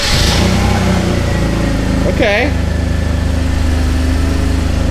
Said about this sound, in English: the choke's on right now. That's why it's like revving a little bit higher